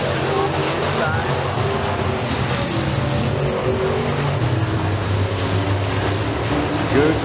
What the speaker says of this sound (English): Good close racing in our Amsoil Rush Pro Stock heat race